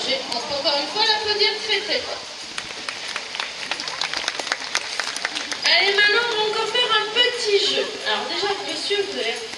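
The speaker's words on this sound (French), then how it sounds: "On peut encore une fois l'applaudir très très fort" Zoo audience applauding during a sea lion show at Amnéville, with bursts of clapping and crowd noise rising and falling under a loudspeaker voice talking over it.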